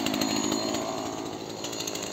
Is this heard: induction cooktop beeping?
no